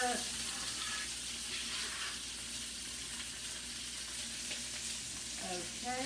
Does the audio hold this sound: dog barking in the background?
no